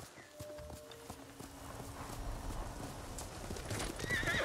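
A horse in the video game Ghost of Tsushima clip-clops along at a quick gait, hoofbeats close and steady, with a whinnying neigh rising near the end.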